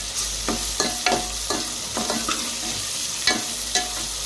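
Ginger paste fries in oil as it is stirred, giving a steady sizzle broken by regular scraping strokes of the spoon against the pan.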